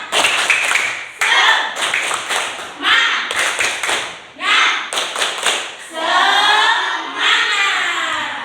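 Children clap a rhythmic 'tepuk semangat' pattern in a classroom, bursts of quick hand claps and taps in short phrased groups with brief pauses between, fairly close and lively.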